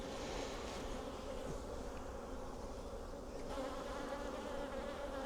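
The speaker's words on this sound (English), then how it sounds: "these are darker bees. These are probably fairly grumpy bees." A dense, steady buzz of dark, fairly defensive honeybees swarms around a brood frame lifted from an open hive, close and continuous throughout with no talking.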